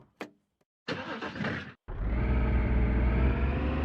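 A car engine in a dating simulator video game: a click and a cranking starter whir, then the engine catches and settles into a loud, steady low idle that carries on to the end.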